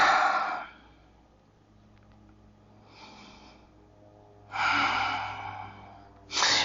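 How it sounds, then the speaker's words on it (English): A person breathing deeply during a yoga twist, close and clear: a long exhale, a quieter breath in the middle, then a strong inhale and the start of another breath. "And just breathe."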